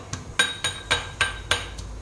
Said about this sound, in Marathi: हे आता मस्त खलबत्त्यामध्ये आपल्याला बारीक करून घ्यायचं आहे